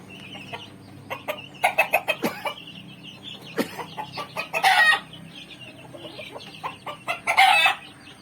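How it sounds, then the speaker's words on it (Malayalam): Native country hens cluck in bursts from a farm flock while roosters crow nearby, loud repeated calls over a quiet background with no speech. "ഇതാണ് ഞങ്ങളുടെ നാടൻ കോഴികൾ"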